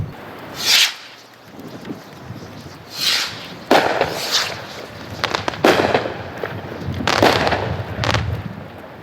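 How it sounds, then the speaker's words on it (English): Specialty ring rockets are launched at an outdoor fireworks demo, giving several whooshing bursts and sharp pops at irregular intervals over a constant rush of wind on the microphone. "These are 4 specialty ring rockets."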